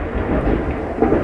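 A low rolling rumble of thunder with heavy rain pouring down outdoors, loud and continuous, with no voices.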